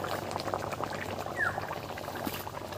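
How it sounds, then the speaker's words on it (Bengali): A pot of spiced dhokar dalna curry simmers and boils, giving off a faint, steady bubbling and popping with no voices. "এবার এটাকে বেশ কিছুক্ষণ ফুটিয়ে নেব।"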